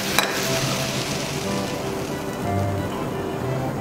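Flour being stirred into melted butter in a pan over low heat for a white sauce, a steady soft sizzle and scraping hiss that runs evenly throughout, close and fairly loud with no talking.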